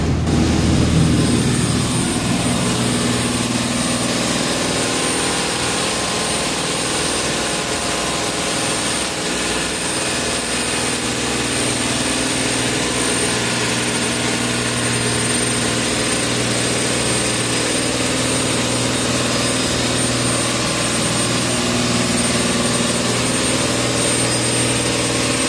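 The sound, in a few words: FPT NEF 450 marine diesel engines running on a boat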